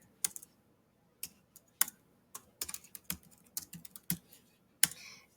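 Fingers tap on a computer keyboard in scattered, irregular keystrokes, some single and some in quick clusters, with quiet pauses between and no voices.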